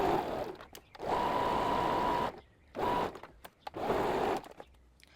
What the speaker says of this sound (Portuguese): Então a gente vai costurar para um lado, depois dobra e faz um acabamento.